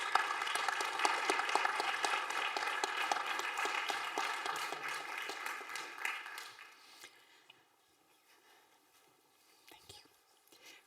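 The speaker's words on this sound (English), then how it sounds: "big round of applause for all the panelists" Conference audience applauding the panelists after a debate session, a dense burst of clapping that fades away after about seven seconds into near silence.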